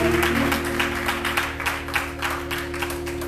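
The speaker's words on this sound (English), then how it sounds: "Come on, give the Lord a hand clap." Congregation clapping hands during a church service, a steady run of rhythmic claps over a sustained tonal hum, close and moderately loud throughout.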